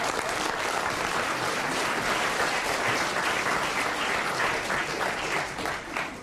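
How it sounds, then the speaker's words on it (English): An audience applauds at a humorous recorded talk on the law: a steady, dense wash of clapping that holds at an even level throughout, with no voices over it. "You may applaud"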